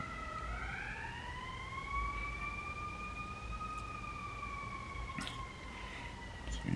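An ambulance siren wails steadily with rising and falling tones as it passes up a nearby street, fairly loud at first and holding over low road rumble, with no talk.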